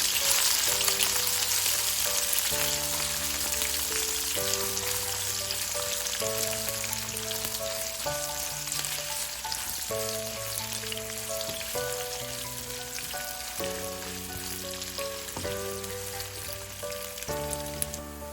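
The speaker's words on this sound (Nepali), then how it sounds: "त्यसैगरी एउटा मिडियम साइजको प्याज चलाइदिउँ" Chopped medium-sized onion, with green chili already in the pan, fries and is stirred for an omelette curry, making a steady soft sizzle beneath looping background music.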